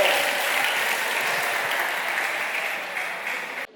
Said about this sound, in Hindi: जूही कुमारी के लिए ताली करिए भाई।